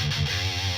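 A guitar is heard through the Gemini G5 microphone impulse response in the FAT G2 position, giving a dense, sustained, bright distorted tone that holds steady for under a second with no pauses.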